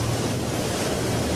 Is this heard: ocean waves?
yes